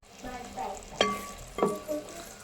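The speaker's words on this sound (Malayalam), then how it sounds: "ഞാനത് അരച്ചെടുത്തപ്പോഴത്തേക്കും നമ്മുടെ എണ്ണയ്ക്ക് വേണ്ടി ഒഴിച്ച തേങ്ങാപ്പാലൊക്കെ തിളച്ച് വന്നിട്ടുണ്ട്." Coconut milk boils down in a heavy pan while being reduced for oil. A soft, close bubbling sizzle is broken by a couple of sharp spoon-against-pan clanks over about two seconds.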